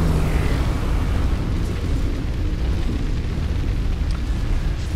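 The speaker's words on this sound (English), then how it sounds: "That's quite a severe explosion." A severe explosion in the strategy game Planetary Annihilation erupts as a loud, dense rumbling boom that sustains across several seconds with a heavy low-end roar.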